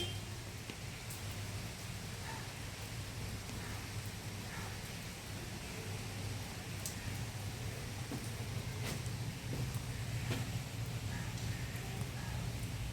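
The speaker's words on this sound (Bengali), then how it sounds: "প্রথমে তো বৃষ্টিটা একটু কমই হচ্ছিল, এখন তো প্রায় জোরেই চলে আসছে।" Rain pours outside in a faint, distant, unbroken hiss that stays even for the whole stretch, with occasional soft drip ticks and no voices.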